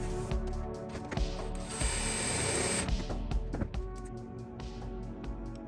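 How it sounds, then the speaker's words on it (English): A power drill, run in reverse, whirs and grinds in bursts while drilling holes for a RANS S-21 aircraft's aft baggage installation, with a sustained high-pitched stretch in the middle and clicking mechanical noise throughout. "I have to run the drill in reverse when I flip it around like this"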